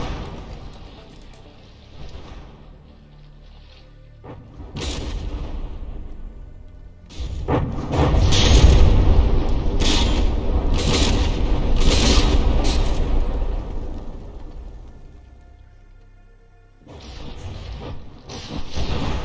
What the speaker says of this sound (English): That volley managed to miss. That volley's gonna miss too.